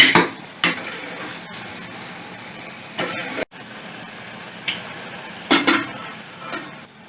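Wheat flour pakoda batter being mixed in a bowl: irregular scraping and clinking strokes with sharper knocks scattered throughout, close and moderately loud, over a steady background hum, with no talking.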